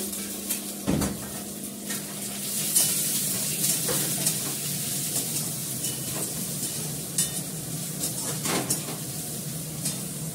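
Carrot frying in a pan, a steady close sizzle throughout with a few sharp scrapes and stirring knocks of a utensil against the pan, and no voices.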